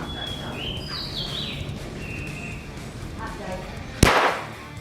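A single sharp gunshot from a Glock 44 .22LR pistol on a test range cracks out near the end, its echo tailing off quickly, after a stretch of faint outdoor background with bird chirps.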